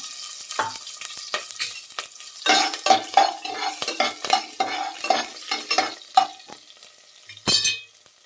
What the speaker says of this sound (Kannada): ಎಣ್ಣೆ ಕಾದ್ಮೇಲೆ ಸಾಸಿವೆ ಜೀರಿಗೆ ಉದ್ದಿನಬೇಳೆ ಹಸಿಮೆಣಸು ಹಾಕೊಳ್ತೀನಿ